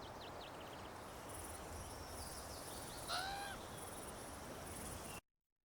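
A few crows caw faintly in a game-engine outdoor ambience, brief calls over a steady bed of insect-like hiss, with no talking.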